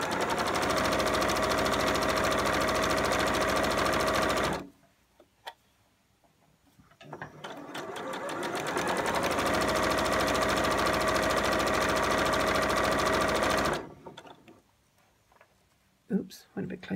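A sewing machine stitches a scrubs uniform bag seam in two sustained whirring runs of several seconds each, close and fairly loud, broken by quieter pauses with light handling clicks.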